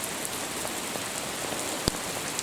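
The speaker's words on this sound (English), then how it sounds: "It's raining, yeah." Heavy rain falling steadily outdoors on a walk home, a dense continuous hiss of drops with one brief louder splash or knock near the end.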